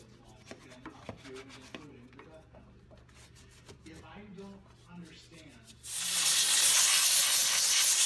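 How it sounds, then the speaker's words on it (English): A steam cleaner blasts grime out of a car's inner fender well, a loud broadband hiss that bursts on abruptly and holds steady near the mic after several seconds of quieter scrubbing and talk. "Just an agitation and the steamer will remove it in this case"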